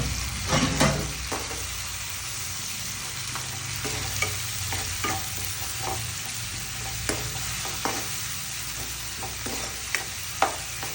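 Ground tomato curry paste frying in a pan with curry leaves, a continuous sizzle under repeated spoon scrapes and taps as it is stirred, close and steady.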